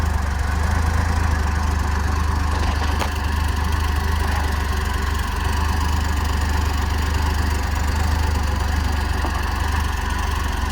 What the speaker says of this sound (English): I see I got an exhaust leak, which I can kind of hear it.